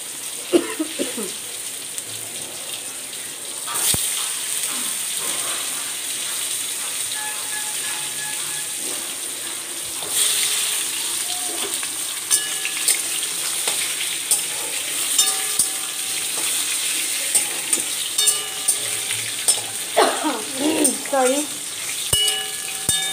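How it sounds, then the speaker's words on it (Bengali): Potato and pumpkin pieces frying in a pan, a steady close sizzle running throughout with repeated scraping and clinking of a spatula stirring, and occasional louder clatters. "আর কুমড়োটা দিয়ে দিচ্ছি একটু ভাজা ভাজা হবে"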